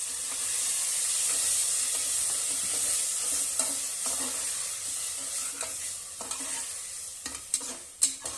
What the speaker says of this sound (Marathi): मध्यम गॅस ठेवायचा आहे, त्यामुळे भाज्या छान परतल्या जातात।